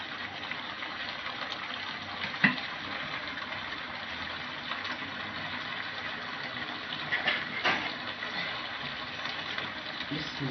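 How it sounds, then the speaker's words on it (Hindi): Steady, low rushing wash of water pouring into a pot of potato chicken curry, continuous and fairly faint, with a few soft clinks along the way. "अब मैं इसमें पानी ऐड करूँगी"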